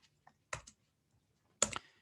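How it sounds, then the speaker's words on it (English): A computer keyboard being typed on, giving a few sparse, soft clicks and a pair of short, louder key clatters in an otherwise quiet room. "Type in the word, Theta."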